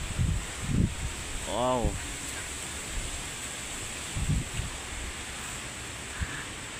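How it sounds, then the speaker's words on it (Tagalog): Strong wind blows outdoors near an old narra tree, a steady broadband rush with gusts thumping the microphone, while someone speaks briefly over it. "Wow, mahangin talaga guys."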